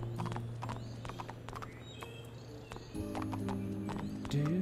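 Horse hooves clip-clop steadily in the Barbie Horse Adventures: Wild Horse Rescue video game, fairly faint under tonal game music and effects.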